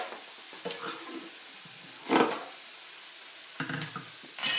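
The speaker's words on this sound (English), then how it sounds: "Now I'm going to add tomatoes." Tomatoes dropped into a sautéing pan, a few soft clinks and stirs followed by a short burst of sizzling, then quieter utensil scrapes and a final sizzle, close and moderately quiet.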